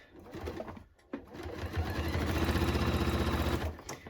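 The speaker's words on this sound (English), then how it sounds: "Sewing in the ditch of the original stitch line up to underneath the armpit" A sewing machine stitches in the ditch along the original seam line of a denim jacket toward the armpit. A brief start and pause come first, then a sustained close whirring run with no talking.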